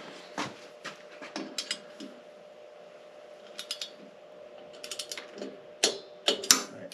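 Torque wrench clicking and ratcheting on the cylinder head bolts of a 2001 Harley-Davidson Heritage Springer, set to 100 inch-pounds, giving sharp scattered clicks in bursts, close and fairly quiet, with no talk.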